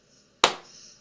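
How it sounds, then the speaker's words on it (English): A single sharp hand clap rings out in a quiet room, followed by a short fading echo. "The slow clap."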